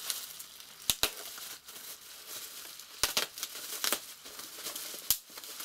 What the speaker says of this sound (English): So we unwrap the item.